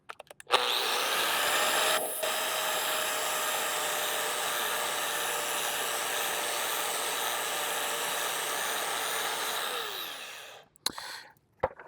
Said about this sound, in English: We're just going to nice and light move our flap disc along here and just touch it up on all 6 sides